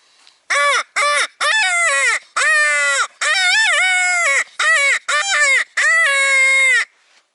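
A three-in-one duck call is blown to imitate a crow: a string of about ten loud, harsh caws in quick bursts, some clipped short and others drawn out, alone and close.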